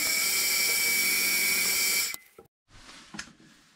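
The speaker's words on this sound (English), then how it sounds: "Now I'm gonna center drill the end of the workpiece ready for" A metal workpiece being center drilled on a lathe makes a loud, steady high-pitched whine for about two seconds, then it cuts off, leaving brief, fainter scraping and rattling.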